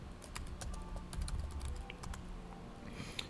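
Steady typing on a computer keyboard while entering code, with dense, continuous key clicks at close range and no voices.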